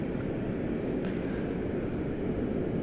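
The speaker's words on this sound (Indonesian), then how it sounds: "Untuk pesawat yang kita gunakan kali ini kita akan menggunakan Airbus a 330900 Neo ya dengan maskapai penerbangan Citylink" A Citilink Airbus A330-900neo with Rolls-Royce Trent 7000 engines produces a steady, broad cabin roar of engine and airflow, constant and even throughout with no talk.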